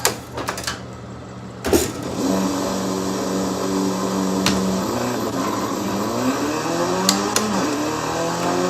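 A front-wheel-drive hatchback of about 282 horsepower revs for a launch control start: a sharp blip, then the engine holds a steady, droning high rev that climbs and wavers, loud and close with no talking.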